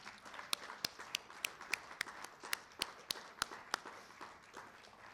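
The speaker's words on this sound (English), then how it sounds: "let's give him a congratulatory round of applause" Sparse, uneven claps from a small audience at a Founders Day gathering, congratulating a student senator just re-elected; a dozen or so sharp, distinct hand claps ring out over about five seconds against a quiet room rather than a full ovation.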